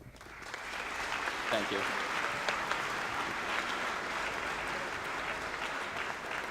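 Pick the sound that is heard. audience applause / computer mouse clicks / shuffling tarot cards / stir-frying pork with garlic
audience applause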